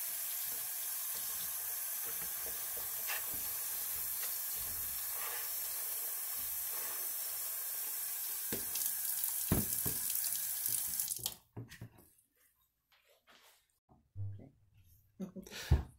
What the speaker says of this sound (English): once you're done cutting up your newspaper, you'll need to add some water to cover